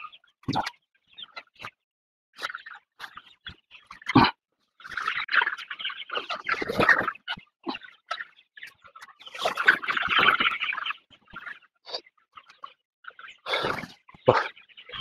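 Coloured-breed broiler chickens about 45 days old cluck and squawk inside a hot poultry shed, irregular close bursts of calls, some overlapping, separated by short quiet gaps.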